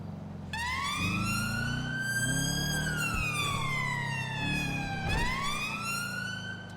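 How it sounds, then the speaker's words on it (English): A British-style police siren from a modded GTA V game, a loud two-tone wail rising and falling in long sweeps, then switching abruptly to a new cycle near the end. "The sirens have also been updated to include some very British sounding ones"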